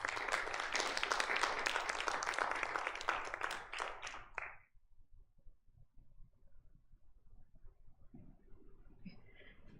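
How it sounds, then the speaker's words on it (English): An audience applauds a woman called forward to lead a program, a dense clatter of many hands for about four seconds before cutting off abruptly, leaving a quiet room with faint shuffling. "Let's give her a round of applause."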